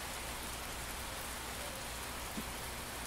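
Steady rain falling, a dense even hiss without pause throughout, moderately loud and with no voices.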